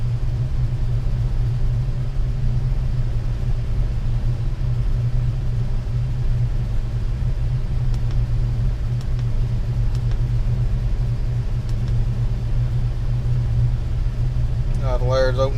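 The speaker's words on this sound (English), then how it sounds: "Still seems like the idle's just a little bit rough," A 1998 Ford Ranger farm truck's 3.0 engine idles at around 800 RPM with a slightly rough, steady low rumble, nearby and continuous, with a faint higher sound near the end.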